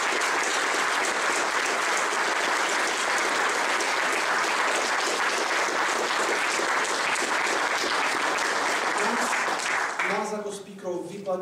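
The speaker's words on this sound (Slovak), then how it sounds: "daj mi veľký potlesk za to" Audience applause at a talk on mind and emotional control, a long, loud, steady wall of clapping that holds evenly for most of its length before a voice begins speaking near the end as it thins.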